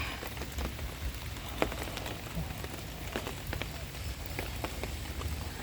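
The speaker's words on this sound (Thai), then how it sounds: "ฝนชุ่มฉ่ำเลยค่ะ" Steady patter of rain falling on garden plants and leaves, with scattered louder drips standing out against the continuous wash.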